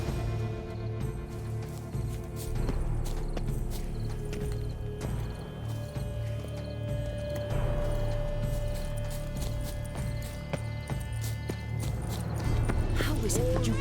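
Horse hooves clip-clopping in the video game The Witcher 3: Wild Hunt (Blood and Wine), irregular thuds under ongoing game dialogue and background music, with a steady mid-level loudness throughout.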